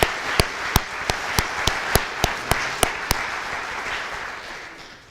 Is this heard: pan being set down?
no